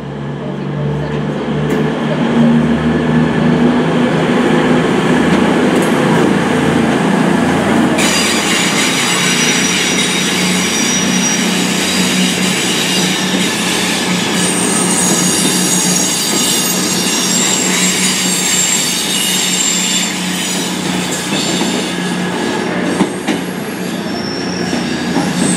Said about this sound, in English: arriving now is 444033. This is our train back to Weymouth.